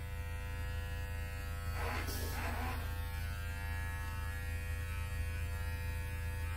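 An electric trimmer works over a beard, cleaning up longer stray hairs: a faint steady buzzing hum throughout, with a brief rougher burst of cutting in the middle.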